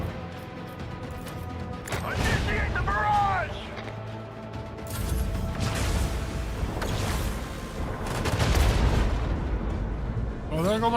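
Starship lance batteries firing in Warhammer 40000 Rogue Trader, a space battle: heavy overlapping booms and crashing blasts roll on continuously, loud and rumbling, with scattered game voice-like chirps mixed in.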